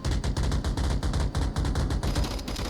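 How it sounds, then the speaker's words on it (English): Rapid, continuous automatic gunfire from a VR shooter match in Onward, a dense near burst of shots with a few brief gaps across the whole stretch, loud and without talk. "More shots being fired."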